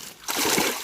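A fish released back into water makes a short splash, one burst of sloshing that settles quickly, fairly close and moderately loud.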